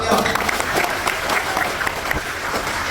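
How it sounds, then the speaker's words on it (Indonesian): Audience applause at a political student rally in Indonesia, a dense steady clatter of many hands filling the space, with some voices and crowd noise mixed in. "Tepuk tangan dulu."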